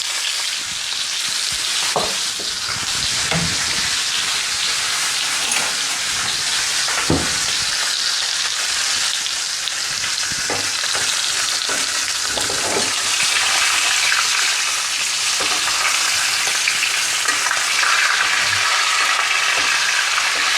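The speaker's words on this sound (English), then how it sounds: "And now it's the time to add the butter, the rosemary, and also the garlic." Butter, rosemary and garlic sizzling around a steak in a cast iron or carbon steel skillet, a constant loud frying hiss with occasional spatters and pops, no voices.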